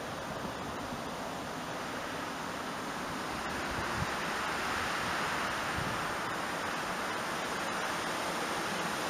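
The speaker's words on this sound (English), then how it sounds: "Gusts have to be between 50 and 70 miles an hour." Strong wind gusting at roughly 50 to 70 miles an hour, a steady loud broadband roar with heavy rumble on the microphone and no pauses throughout.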